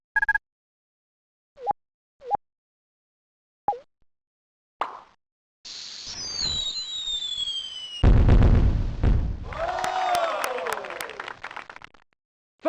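Fireworks burst in the 1996 math video game Mighty Math Number Heroes: a rising whistle, then loud crackling pops and bright bursts, after a few short plopping game sounds.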